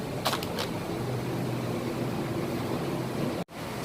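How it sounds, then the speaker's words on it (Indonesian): An electric blender runs continuously, whirring steadily as it blends egg white juice, with a few brief clinks near the start and an abrupt cutoff just before the end. "Oke, semuanya udah kita masukin, tinggal kita blender."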